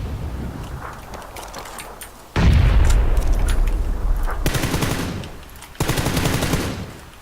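A grenade goes off in PUBG, a sudden loud boom that rumbles and fades, followed by bursts of rapid gunfire in the game.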